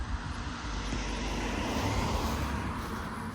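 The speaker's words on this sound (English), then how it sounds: "Excuse the passing traffic." Road traffic passes near restored old buildings in hurricane-damaged Laurel Valley, making a broad, continuous rushing roar as a vehicle goes by, fairly loud and without talk.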